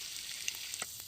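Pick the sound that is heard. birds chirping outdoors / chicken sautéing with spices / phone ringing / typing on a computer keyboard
chicken sautéing with spices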